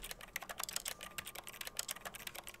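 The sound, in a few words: typing on a keyboard in The Stanley Parable video game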